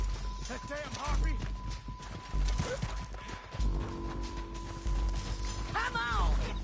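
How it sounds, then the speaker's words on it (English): Horse hooves from the Red Dead Redemption 2 video game clop in repeated bursts of galloping, mixed with whinnies, game music and raised voices speaking over the action. "We need our horses."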